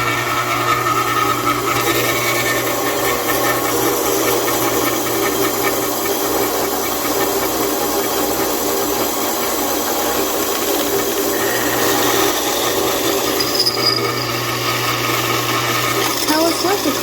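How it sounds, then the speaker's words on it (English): A drill press bores into metal, with a child working the press: a steady, loud motor whine and grinding hum that runs without pause for the whole stretch, with small changes in tone. "you can't start the drill when it's in the air because it's gotta get up to speed"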